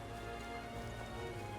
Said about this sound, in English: Aha. Rain.